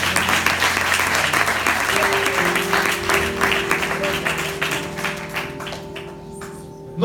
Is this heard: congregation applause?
yes